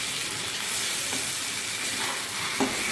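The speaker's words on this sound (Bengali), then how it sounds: "আমি তেল দিয়ে ভালো করে একটু এটা নেড়ে নিচ্ছি, যাতে ওই জলটা একটু মরে যায়।" Food fries in oil in a pan with a constant close sizzle and hiss, while a spoon stirs it with faint scrapes and one small clink near the end. No voices.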